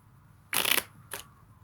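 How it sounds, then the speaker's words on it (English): A short riffle of a tarot card deck being shuffled, with a crisp papery burst followed by a brief second flick. It is close and quiet, with no talk. "I'm gonna go ahead and shuffle this back in."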